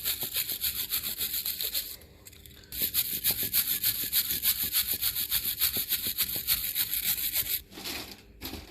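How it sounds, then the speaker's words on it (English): Wire brush scrubbing scale and muck off the rear brake carrier of a 2017 Nissan X-Trail, a loud, steady run of rapid rasping strokes with a short pause near two seconds and a drop near the end. "with a bit of wire brush and a screwdriver, it's actually taken off the scale on the carrier itself"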